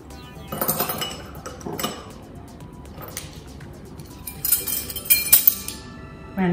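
Butter, icing sugar and cocoa powder being stirred in a bowl for a chocolate roll filling, a spoon scraping and clinking against the bowl in uneven bursts, close up with no voices.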